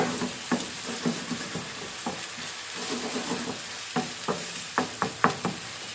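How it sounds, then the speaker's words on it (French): Sliced onions stewing with a splash of warm water in a frying pan, a soft bubbling sizzle under repeated spoon stirs and scrapes that come in irregular bursts, close and alone. "j'ajoute un petit peu d'eau tiède dans ma poêle pour bien faire compoter mes oignons"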